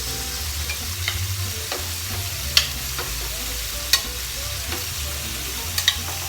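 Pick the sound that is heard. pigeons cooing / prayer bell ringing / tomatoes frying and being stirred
tomatoes frying and being stirred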